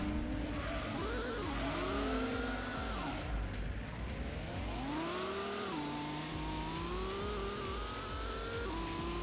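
In Gran Turismo, a race car spins out with a long wavering tire squeal over a loud engine drone, as other racing cars roar close by in a tuned car cup race.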